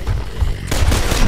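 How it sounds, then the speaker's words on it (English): A loud, close burst of gunfire from the video game Gears of War: Ultimate Edition lands a headshot, dense rapid shots with booming low-end impacts running continuously through the short moment. "Blind shot with a headshot."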